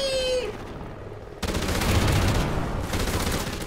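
Rapid bursts of automatic gunfire from The Ripper weapon in a shooter game, a dense loud volley after a brief pause, with a short electronic tone at the start.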